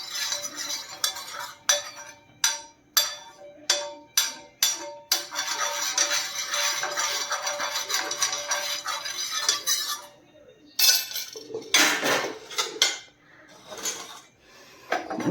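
Metal spoon adding oil to a hot tava griddle while making chilla, with a run of sharp, evenly spaced clinks, then a sustained rushing hiss, then more scattered clinks and scraping close by.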